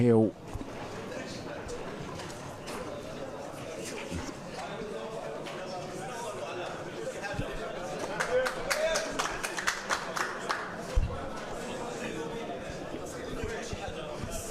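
Scattered clapping from a crowd at a pool match, an Ultimate Pool event in Morocco, building into a burst of applause while a commentator talks over it.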